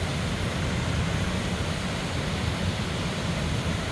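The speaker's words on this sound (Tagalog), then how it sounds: "pinakawalan ang tubig kasi ang dami-daming tubig" A large volume of released floodwater rushes in a dense, steady roar, loud and unbroken throughout.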